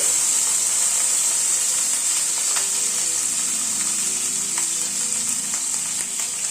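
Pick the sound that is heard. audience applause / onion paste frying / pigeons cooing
onion paste frying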